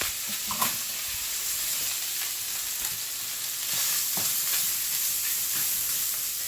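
Eggs fry and sizzle in a saucepan with a steady hiss, for Norwegian lok eggs in Odda, with faint occasional clinks of stirring over the continuous crackle.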